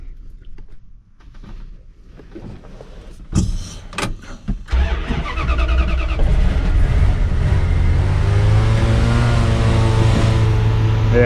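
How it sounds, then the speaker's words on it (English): A 1989 Dodge D250 pickup truck's engine cranks a few times, catches, and settles into a loud, steady high idle close by, with no talk over it. "Ooh, that's a high idle."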